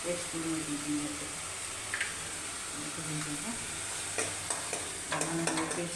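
Onion paste frying in a pan gives a constant hiss of sizzling, with a few spoon scrapes and light clicks toward the end, heard close and moderately quiet.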